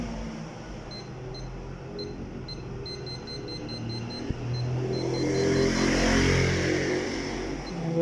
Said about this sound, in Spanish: se le ocurrió pasar a todos los carros y camiones que hay